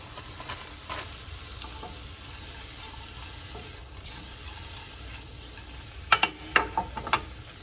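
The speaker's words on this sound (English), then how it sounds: "I'm going to go on and add my medley to the skillet" A vegetable medley fries in a hot skillet with a low, steady sizzle, followed by a few sharp clinks and knocks near the end.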